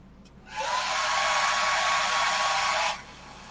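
A hair dryer blows steadily on a transfer, switching on after half a second and running loud and even for about two and a half seconds before cutting off.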